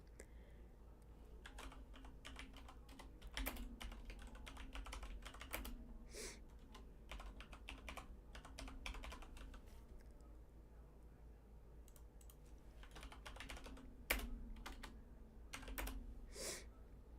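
Someone types on a computer keyboard in quick irregular bursts, keys clicking up close with short pauses between runs.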